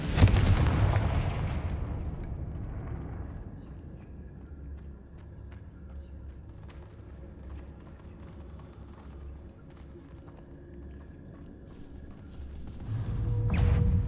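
In Hogwarts Legacy, a Confringo spell erupts with a heavy explosive boom at the start that decays into a low rumble, followed by quieter ambient rumbling and another swelling blast at the end.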